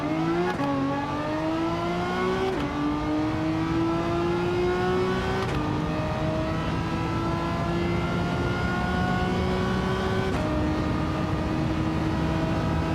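A race car engine in a video game hums steadily, its pitch climbing repeatedly as it shifts through gears, with several sharp clicks between shifts.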